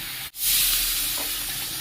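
Water poured into spice paste frying in a pan for a mustard-paste fish curry, giving a sudden loud burst of sizzling and hiss after a brief dip, then a steady bubbling sizzle that slowly settles.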